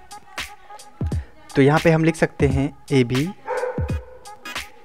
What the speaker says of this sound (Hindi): अरे कुत्ता भौंक रहा है।